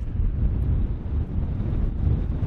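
Strong wind blows on an exposed beach at Buddon Ness, buffeting the microphone with a heavy, low rumble. It stays loud and gusty for the whole stretch, and no one speaks.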